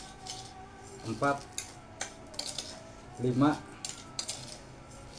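Sugar spooned into carrot cake batter made with eggs, bringing light metallic clinks and taps of a spoon against a bowl in an irregular series, while a voice counts quietly over them.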